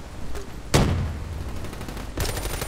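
Gunfire in a Black Ops III multiplayer match from an HVK-30 assault rifle, loud sharp bursts with a sudden volley near the start and another near the end.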